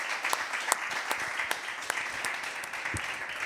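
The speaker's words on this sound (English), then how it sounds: "Please give them a warm round of applause." An audience gives faint, scattered applause for speakers on stage at an ocean data conference, with soft irregular claps heard from a distance.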